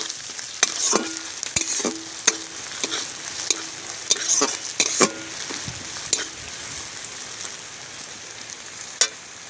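Chopped garlic and green chili fry in a pan while being stirred, a constant sizzle punctuated by repeated sharp clanks and scrapes of a spoon against metal, close and fairly loud, without talking.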